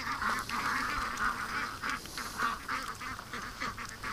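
A flock of pet ducks raised for charity quacks and honks in repeated overlapping bursts, loud and close, with a continuous noisy chorus and no talking.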